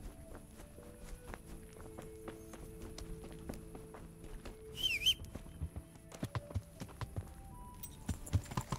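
Horse hooves clip-clop steadily in Kingdom Come: Deliverance as a rider travels on horseback, a regular rhythmic stream of footfalls at moderate volume with a brief whistle-like tone partway through and no talk.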